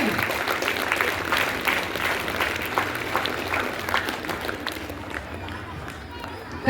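An audience at a school International Yoga Day celebration in Karnataka keeps up dense, busy clapping mixed with murmuring voices, then the applause thins out and fades toward the end.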